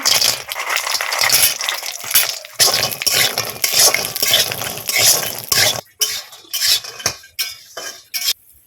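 Lentil bori frying in hot oil in a home kitchen: a steady, close hiss of frying under busy clattering of a utensil against the pan, giving way to sparse, separate clinks and scrapes near the end.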